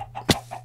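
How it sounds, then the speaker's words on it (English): Minecraft chicken giving a single short, sharp cluck, close and fairly loud over a low steady background hum, with no talking. "oh, more chicken."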